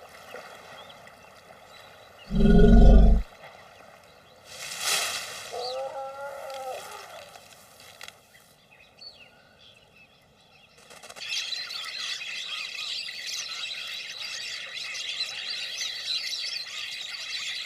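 Wild birds call out: a sudden loud squawk, then scattered squeals and chatter, followed by a background chorus of bird calls.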